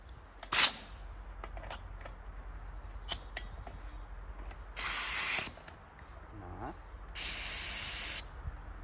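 A paint sprayer running off an air compressor gives two sustained bursts of loud hissing spray while painting a tiny house frame, separated by quieter gaps with scattered clicks and light knocks.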